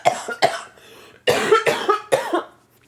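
A person coughs in two bursts, first a pair of short hacks, then after a pause three or four harsher coughs in quick succession, close and loud with no talking.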